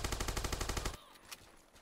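Rifle fire in the video game Warface, a rapid burst of about seven sharp shots in quick rhythm lasting around a second, then dropping to faint background game noise.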